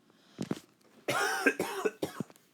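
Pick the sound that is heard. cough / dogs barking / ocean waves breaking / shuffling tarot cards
cough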